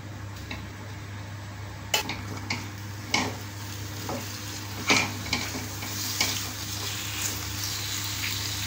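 Boiled pork ribs frying in a little oil in a pan, a steady low sizzle beneath occasional clinks and scrapes of a utensil stirring, several sharp taps spaced a second or so apart, with no talking.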